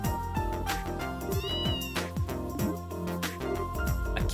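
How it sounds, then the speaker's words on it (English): A cat meows in the video game The Legend of Heroes: Trails in the Sky, short cries rising over the game's steady background music with no talking. "A cat?"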